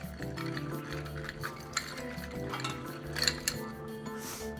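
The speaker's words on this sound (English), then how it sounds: "Give this another little stir." A bar spoon stirs a cocktail with ice in a mixing glass, giving soft continuous swirling with bright clinks of cubes against the glass at irregular moments.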